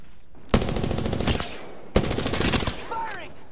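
Video game gunfire rips out in two long, loud automatic bursts of rapid shots separated by a short pause, with a brief voice in the background.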